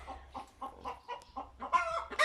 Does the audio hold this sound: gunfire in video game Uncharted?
no